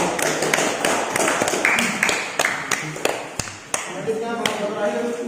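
Classroom applause during a teaching practice session, a burst of scattered claps and taps that runs for several seconds while voices talk over it.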